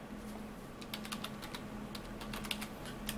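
Quiet, close keystrokes clatter on a computer keyboard as someone types a short command in irregular bursts over a low steady hum.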